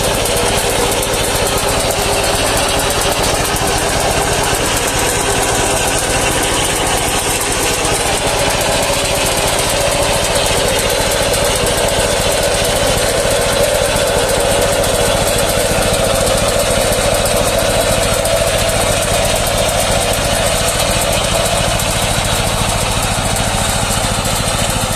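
A Shifeng SF-240 minitractor digs potatoes with a conveyor digger, its engine a loud, continuous, rattling drone with a knocking edge that holds steady for the whole stretch, with no voices.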